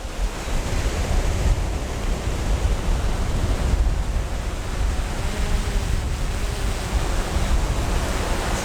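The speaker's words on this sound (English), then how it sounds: "It's so windy, it's struggling." Strong wind gusting at a beach during a drone fishing trip, a steady loud roar of wind buffeting the microphone mixed with surf for the whole stretch, with no talking.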